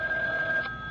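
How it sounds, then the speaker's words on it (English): A telephone rings with a steady electronic two-tone trill, fairly close and clear, lasting about a second before tailing off, with no talking over it. "Your phone is ringing."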